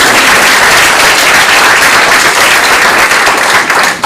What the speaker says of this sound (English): but let's clap anyway.